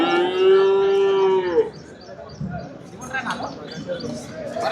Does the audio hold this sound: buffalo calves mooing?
yes